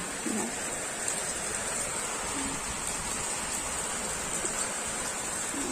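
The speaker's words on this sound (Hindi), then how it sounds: "बारिश पानी गिरीस ना" Steady rain hisses evenly throughout, a dense continuous wash of falling water with no voices.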